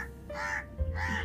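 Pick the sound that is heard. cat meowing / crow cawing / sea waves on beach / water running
crow cawing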